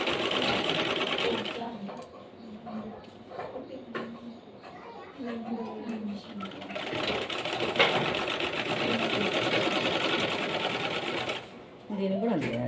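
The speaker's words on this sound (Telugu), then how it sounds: "ఈ రెండు ఇట్లా కుట్టుకోండి" A sewing machine stitches a handled carry bag with a steady mechanical whir, stopping and starting across the stretch while someone talks over it.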